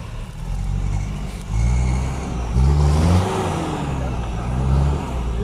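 An off-road 4x4 engine revs on a rough trail in Galicia, with a steady low drone that swells in repeated surges as the vehicle pushes through; faint voices sit in the background.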